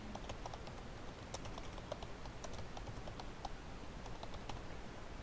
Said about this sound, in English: So here you type your name.